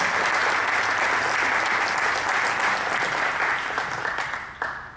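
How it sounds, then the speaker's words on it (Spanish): A church congregation claps together in a loud, sustained burst of applause that fills the room, then tapers off near the end. "Démosle un aplauso al Señor."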